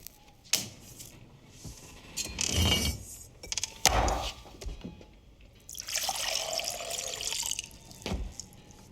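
Water runs and splashes into a glass in two separate bursts with a couple of short taps between them, fairly close and moderately loud, with no talk.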